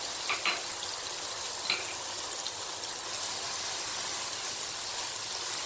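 Garlic ginger paste fries in a pan for pakora kadhi with a soft, steady sizzle. A few faint stirring clicks sound over a low hiss.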